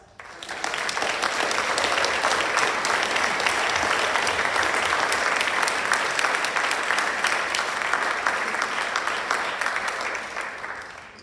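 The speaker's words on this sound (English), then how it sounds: "please join me in a round of applause" A hall of fame induction audience breaks into sustained applause, a thick, even roar of clapping that swells quickly, holds loud for about ten seconds, then tapers off.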